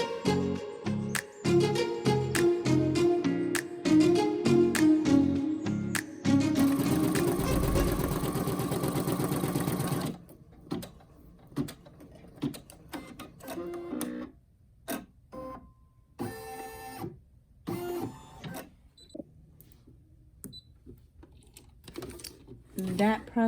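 A Brother PE800 embroidery machine stitches a treat bag, its motor running in a rhythmic mechanical whir with a louder rising whine midway, then stopping into scattered clicks and handling noises, close by.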